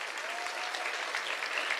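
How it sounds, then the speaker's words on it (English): An audience applauds steadily, dense clapping filling the room without a break. "You guys want to give them a big round of applause?"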